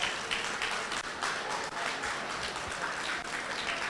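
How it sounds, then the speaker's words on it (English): A crowd claps steadily and loudly at a young writers award ceremony at Comic Con India 2012, a dense continuous patter of many hands filling the whole stretch without pause. "Keep the clapping going."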